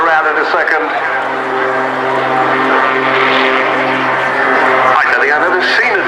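Aerobatic biplane engine at an RAF Cosford airshow, droning steadily through a torque turn with strong harmonic tones that waver and shift pitch as the aircraft hangs and rotates, loud and continuous, with an announcer talking over it.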